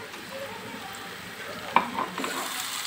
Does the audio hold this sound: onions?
yes